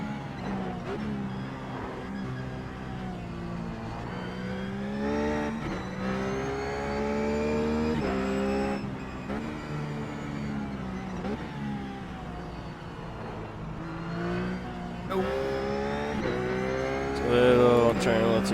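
Ruf GT3 race car engine revving hard at Bathurst in iRacing, a loud continuous sustained engine tone held steady in a high gear with rising and falling pitch across the lap, no talk over it.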